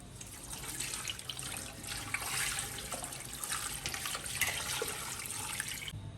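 Water pouring into a pressure cooker holding bong paye for a Lahori stew, a continuous splashing stream that swells and dips for several seconds before cutting off.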